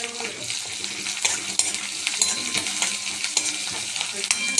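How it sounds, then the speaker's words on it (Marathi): Onion, coarse ginger-garlic paste and curry leaves sautéing in a pan, a steady soft sizzle with scraping stir strokes and occasional utensil taps against the pan, close and moderately quiet. "असं याला चांगलं परतून घ्यायचं।"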